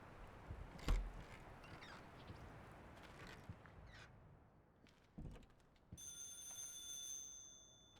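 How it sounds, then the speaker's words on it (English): A telephone rings in the horror video game Stygian: Outer Gods, its steady ringing tone entering near the end after scattered faint noises, fairly quiet with no voices. "Is the phone ringing now of all times?"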